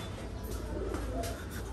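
Pigeons in a racing loft coo softly and repeatedly, a low rolling call at moderate distance against quiet room tone, with no one speaking.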